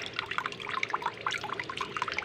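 Running water splashes and patters as food is washed by hand under a tap, with irregular trickles and small splashes, fairly close, no talking.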